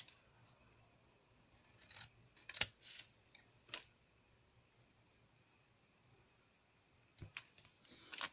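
Quiet, sparse snips of scissors cutting a mixed-media paper craft tag, a few sharp clicks spaced apart over faint room hiss.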